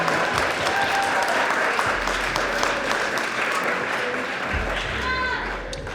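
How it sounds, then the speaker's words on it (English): Audience applause for a keynote speaker at a school association event, a continuous wash of clapping that holds steady and loud throughout, with some low rumble beneath. "another big round of applause for our keynote speaker, Rick"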